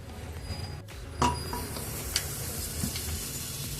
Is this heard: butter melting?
yes